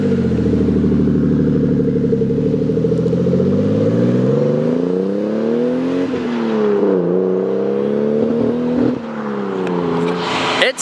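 A car drives past with a growling exhaust, a loud rising then falling engine drone with shifting pitch as it nears and moves away.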